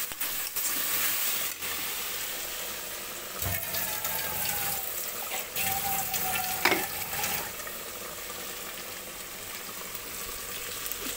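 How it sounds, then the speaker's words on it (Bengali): Ground spice paste with chili powder sizzling in a pan, a continuous crackling hiss broken by scraping stirs and occasional clatters, close and alone. "লঙ্কার গুঁড়া দিয়ে ভালো করে কষিয়ে নেব।"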